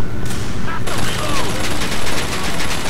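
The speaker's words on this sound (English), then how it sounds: "you can let the turrets gun them down for you" Turret gunfire in the video game Bioshock Infinite: dense, continuous automatic bursts that rattle loud and close, with a short quieter pause near the start before the firing sweeps back in.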